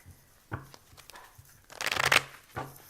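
A Lenormand card deck being shuffled in quick riffling bursts, with soft scattered taps and one dense, louder flurry of shuffling near the end.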